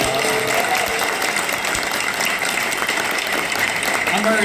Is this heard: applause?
yes